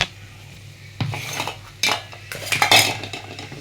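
A spoon clinks and scrapes against a pan while ginger garlic paste is stirred in for a chana gravy, several sharp metallic strikes and scrapes in quick succession, close and fairly loud, with no talking.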